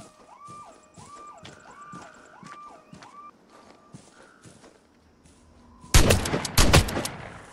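A few loud, sharp shotgun blasts in the Vigor video game near the end, coming after quieter footsteps and repeating electronic warbling tones, the shots close and punchy against the calmer start.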